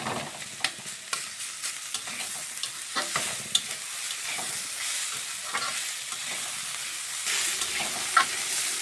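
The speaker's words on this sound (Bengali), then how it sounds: "ভালোভাবে একটু ভাজা ভাজা করে নিচ্ছি। এই যে আলুটাকে একটু আমি ভেঙে দিচ্ছি।" Potatoes stir-fried in a pan and broken up as they crisp, giving a steady close sizzle broken by sharp scraping clicks of the spatula, with no voices.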